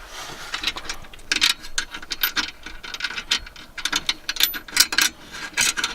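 A ratchet with a 13 mm socket tightens a nylock nut and washers on a cold air intake for a Ford Super Duty truck, giving rapid, fairly quiet clicking in uneven bursts.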